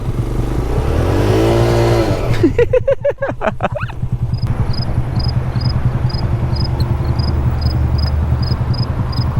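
A motorcycle rides over the brick street at the Fort Worth stockyards, its engine droning steadily with a brief rising rev, then a rhythmic ticking rattle that repeats evenly for several seconds.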